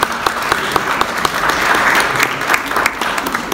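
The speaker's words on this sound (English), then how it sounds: "we should give them a round of applause." An audience at an artist talk gives a round of applause, with dense, loud clapping from many hands running steadily throughout.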